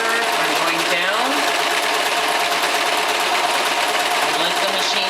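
Sewing machine running a straight stitch along a braided bath mat, a fast, steady mechanical whirr with rhythmic needle clatter, close and loud, with a brief voice in the background.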